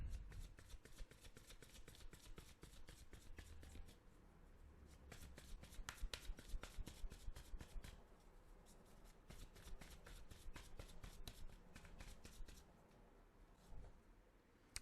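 An oracle card deck is shuffled by hand in quick, crisp riffles and flutters, repeated in bursts with short pauses, close and fairly soft.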